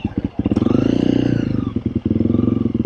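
A Honda CRF 300L motorcycle engine runs close up with a steady pulsing throttle, the revs briefly dipping and rising again as the bike is ridden.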